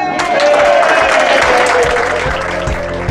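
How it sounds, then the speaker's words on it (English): Wedding guests break into sustained, dense applause with cheering as newlyweds are introduced for the first time, a loud, steady crowd roar filling the room without pause. "lots of clapping, lots of cheering as I introduce you for the very first time"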